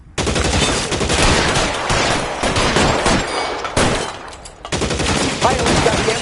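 Dense, sustained gunfire fills a shootout in the video game L.A. Noire, with rapid, rattling bursts running almost continuously, one short lull near the middle, and a shout buried in the clatter.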